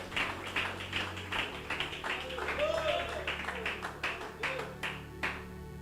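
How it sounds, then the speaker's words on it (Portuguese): A church congregation at a Pentecostal service claps hands loudly, a dense irregular patter of many claps continuing throughout with voices speaking and calling out over it. "Agora bate palmas bem forte para Jesus,"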